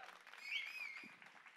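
Audience applause at a trailer launch event for The Night Manager, a steady wash of clapping from a crowd, moderately loud and swelling slightly mid-way before holding level, with faint voices mixed in.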